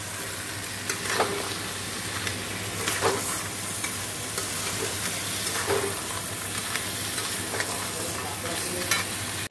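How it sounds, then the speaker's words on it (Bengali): Crab being stir-fried with meat spices in a pan gives a continuous close sizzle and hiss, with repeated scraping strokes of a spatula stirring through it and no talking. "এই দেখো আমি কাঁকড়াটা কষাচ্ছি"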